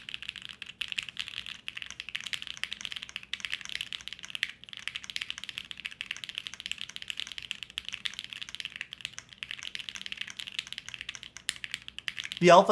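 A custom PC Bolsa Alice-layout mechanical keyboard is typed on up close in a continuous, rapid clatter of keystrokes, with a brief louder burst at the end.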